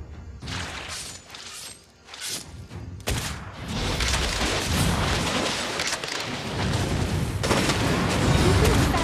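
Sniper rifle shots and gunfire bursts in the Mobile Legends mobile game, loud and dense, layered with booming impacts and game effects that run continuously across the clip.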